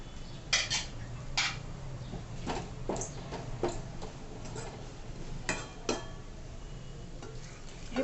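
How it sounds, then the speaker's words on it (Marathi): A spoon scrapes and clinks against a pan while stirring dal with eggplant. The sounds are scattered, light metallic taps and scrapes, irregular and fairly quiet over low kitchen background. "आता हे छान परतवून घ्यायचं चांगलं।"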